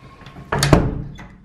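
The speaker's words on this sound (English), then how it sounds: "Let me just close the bedroom door so that they don't nini." A bedroom door is pushed shut with a single solid thunk at close range, followed by a brief rattle and faint household room tone.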